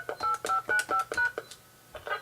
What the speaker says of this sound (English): I'm going to dial in right now into my conference line.